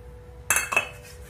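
A plate and an oven baking tray being greased with oil before baking eggless wheat cookies, with two short, bright metallic clinks close by against a quiet room.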